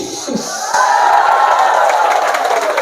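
Audience at a religious sermon bursts into clapping and cheering, a dense swell of applause from a crowd that rises and holds steadily, with a voice heard briefly at the start.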